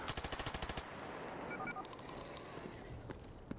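Rapid automatic gunfire from military enemies in a first-person shooter, a fast burst of close shots at the start followed by scattered, more distant shooting and metallic clinks.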